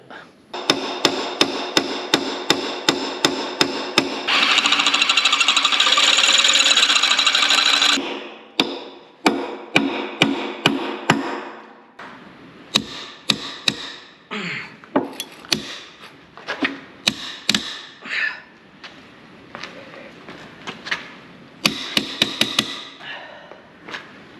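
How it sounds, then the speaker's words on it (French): Hammer and chisel blows hammering at stuck bolts on a Rodag HT 200 tracked carrier, loud close metallic strikes in rapid bursts with a stretch of steady scraping, no talk. "il va falloir y aller au marteau, au burin, tout ce qu'on peut"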